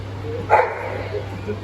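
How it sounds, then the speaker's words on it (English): A dog at a live animal show lets out a single forceful bark up close, short and punchy, over a steady low hum with people talking around it. "So much force just to bark."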